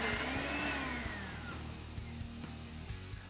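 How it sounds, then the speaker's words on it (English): A blender grinds peppers, spring onions and marinated sun-dried cherry tomatoes into a thick puree, giving a steady, loud motor whir with a falling pitch that holds throughout. "decap the peppers and put them in a blender."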